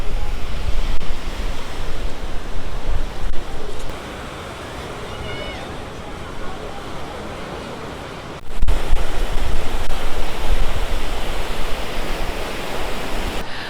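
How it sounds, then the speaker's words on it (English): Strong wind roars across the microphone alongside crashing surf on the beach at Can Picafort, Mallorca, a loud continuous rush that eases briefly midway before surging back. "exceptionally windy conditions over here in Can Picafort"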